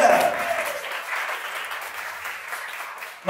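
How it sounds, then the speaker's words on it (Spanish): An audience at a behind-the-scenes entertainment event applauds in a dense, steady wash of clapping that slowly softens, with a louder burst of noise at the very end. "necesito que se den un fuerte aplauso, muchachos"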